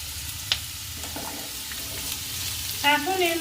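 Chopped ginger and green chili sizzle in a hot pan, a steady broadband fry with a sharp clink of a utensil early on and brief stirring scrapes near the end.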